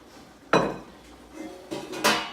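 Chunks of meat and their juices go into a stew pot for Irish stew, with a few loud metallic clanks and scrapes of the pot and utensils, close up and without talk.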